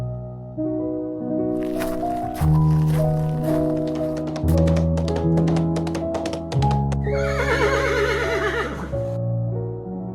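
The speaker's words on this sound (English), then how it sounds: "galloping into town on a horse" A horse's hooves clip-clop in a steady galloping rhythm under a musical backdrop, and near the end one loud, close whinny rises above it.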